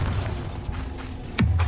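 A Bombarda spell explosion in Hogwarts Legacy: a sudden low booming burst that strikes near the end after a stretch of quieter game rumble.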